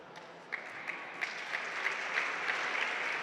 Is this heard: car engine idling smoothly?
no